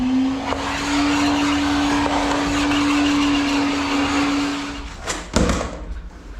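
A vacuum cleaner motor whirs steadily for about five seconds while cleaning flooring underlayment, then shuts off, followed by a couple of soft clunks.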